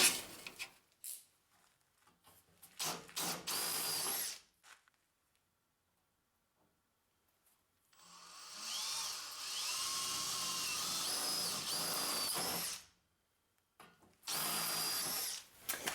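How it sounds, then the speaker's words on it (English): A power drill bores 3/16-inch holes through a custom dash panel for a Land Rover Series 1, coming in three close, whining bursts separated by quiet pauses. "we managed to get 3 holes drilled through here, 3/16 holes"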